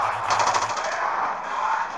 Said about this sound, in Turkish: Nakala pulemyot ham bor ekan.